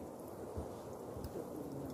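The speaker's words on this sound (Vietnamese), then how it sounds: "Bây giờ cái đó mưa dữ lắm" Heavy rain pours over rice fields as a steady, dense hiss with a soft low rumble beneath it. No voices break through the downpour.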